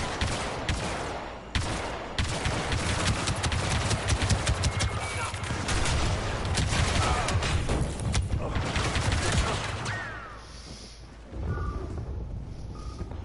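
Rapid blaster fire and explosions crackle almost continuously in a Star Wars Battlefront 2 multiplayer battle, a dense loud barrage that eases briefly near the end, with a voice talking over it.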